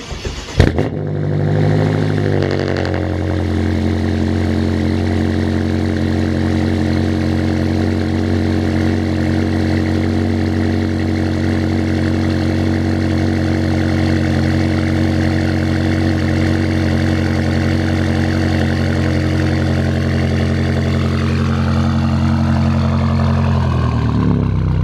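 A BMW F10 M5 cranks and fires on a cold start, flaring briefly before settling into a steady, deep, rumbling idle that holds evenly for over twenty seconds, close and loud.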